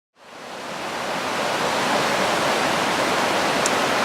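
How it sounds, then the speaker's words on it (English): The River Kent flows past an old mill site in Staveley, a steady broadband rush of water that swells in over the first half second and then holds loud and close without pause. "I'm standing here on the banks of the River Kent."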